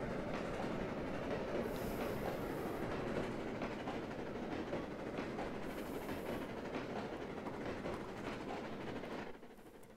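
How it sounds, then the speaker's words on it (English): Simulated train in Trainz 2022 on a Mantiqueira Mountains route: continuous rumbling rail noise with a rhythmic clickety-clack of cars over the locomotive's drone, steady and fairly faint, briefly fading at the end. "You hear the clickety-clack of the cars over the sound of the locomotive itself."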